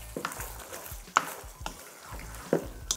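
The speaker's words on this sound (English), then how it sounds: "Give this a little stir." Pasta being stirred in tomato sauce with red pepper flakes in a pan, soft scraping and wet stirring movements under a light sizzle, with a few sharp clinks from the utensil against the pan.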